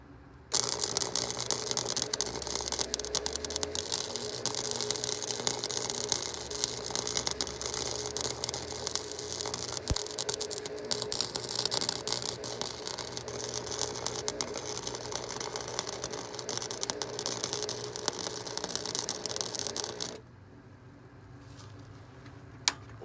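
A wire-feed welder runs a long continuous bead sealing a hole on a 1989 Ford Mustang, a close, steady crackling buzz with faint gear whine that stops abruptly near the end, leaving quiet.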